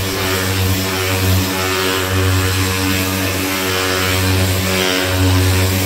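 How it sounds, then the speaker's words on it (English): Power sanders with 80-grit paper cut lacquer off a classic car body in a home garage, producing a loud, sustained motor whine with a buzzing, harmonic drone that wavers slightly throughout. "So to get rid of them, I'm using a few different sanders."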